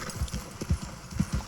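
Horse hooves clip-clop at an easy riding pace in the open-world video game Red Dead Redemption 2, a steady run of soft, close thuds with faint game ambience behind them and no talking.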